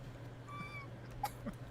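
A person's voice imitates a kitten, giving one short, high, thin mew that rises and falls briefly over a steady low background hum, with no talking around it.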